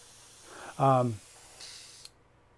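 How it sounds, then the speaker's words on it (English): A paint spray gun fires overspray into a large bucket, making short, close hissing bursts, with a voice speaking briefly between them. "I'm spraying this off the side, is a big bucket right here with the overspray goes into"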